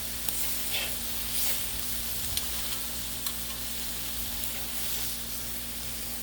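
Chicken for tacos sizzling on a Blackstone griddle, a steady low hiss and crackle with a constant hum beneath and a few faint scraping ticks, fairly quiet and unbroken, with no voices.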